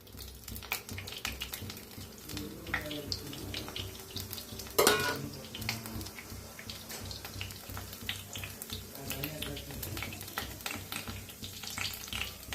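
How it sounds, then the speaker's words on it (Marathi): Cumin, cinnamon, cloves and black pepper frying in hot oil in a pot, a steady close sizzle with stirring scrapes and clatters and one sharp loud clank partway through. "आता तेल चांगलं गरम झालेलं आहे. त्याच्यात टाकूया जिरं, दालचिनी, लवंग, काळं मिरं"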